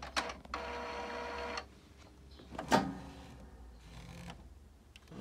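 A DTF printer with a CIS ink system whirs and clicks through its cartridge-change routine, motors running in short mechanical bursts at close range with no speech.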